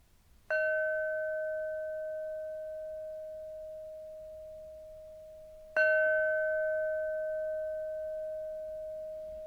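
Two separate bell strikes about five seconds apart, each a clear ringing tone that sustains and slowly fades in a quiet room, with no talking.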